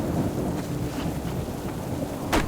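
Gusty wind blows outdoors at dusk in rainy, gloomy weather, a steady broadband rush buffeting the microphone with a sharper gust near the end.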